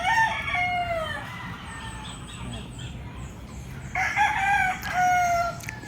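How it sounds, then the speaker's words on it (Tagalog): Roosters crow loudly and repeatedly on a farm in Tanauan City, Batangas, with hens clucking in the background, nearby and continuous. "Dami niyang manok pala rito, pre."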